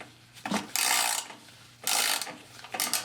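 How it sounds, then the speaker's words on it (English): A 1/2-inch socket turns out a bolt loosened with an extractor, giving several loud bursts of clicking, ratcheting mechanical noise separated by short pauses, close up with no talking. "1/2-inch socket, pop it on there, turn it counterclockwise"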